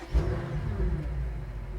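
A 600 hp BMW M5 V8 starts in quiet mode with a brief crank and a low thump, then settles into a smooth, subdued, steady idle close by.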